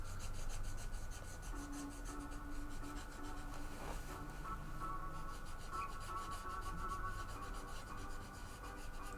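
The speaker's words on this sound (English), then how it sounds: "What if you can hear this marker?" A scratchy marker pen rubs steadily across paper while drawing, giving a continuous close, quiet scraping texture with small strokes throughout and no talking.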